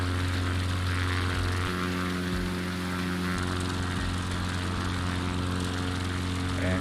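An XCub propeller plane climbing out in Flight Simulator 2020: a steady, loud droning engine and prop hum with a constant pitch throughout, no pauses.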